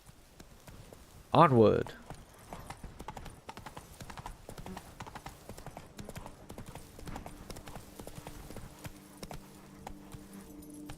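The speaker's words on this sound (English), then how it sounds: "Come on, Roach, you valiant steed, you." Roach, Geralt's horse in the video game The Witcher 3: Blood and Wine, gives one loud burst of hoofbeats with a whinny near the start, then a softer steady clip-clop of galloping hooves runs on under someone talking.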